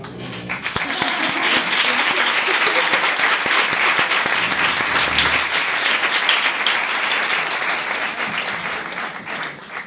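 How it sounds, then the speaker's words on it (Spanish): A seated audience at a talk on public schooling gives sustained, dense applause, many hands clapping together at a steady level throughout with faint murmurs underneath. "No habías dejado el espacio para el aplauso."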